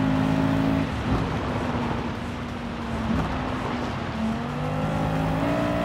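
Race car engines in Gran Turismo 7 on a dirt stage hold a loud, continuous rev, the pitch dipping and rising again as throttle eases and returns over several seconds, with no talk over it.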